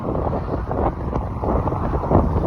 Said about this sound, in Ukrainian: такий вітрюган, що аж машину заносить